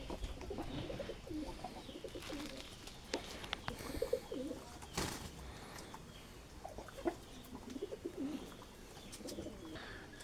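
Pigeons coo repeatedly in soft, rolling bursts, close by and moderately quiet, with some rustling and faint chirps between the calls.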